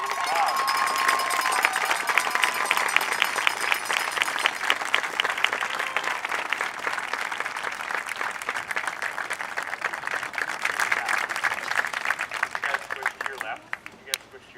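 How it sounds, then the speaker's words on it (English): Audience applause for drum major wild cards at a school Parents Day event, dense steady clapping from a crowd lasting about fourteen seconds before fading out abruptly at the end. "Please give them a round of applause."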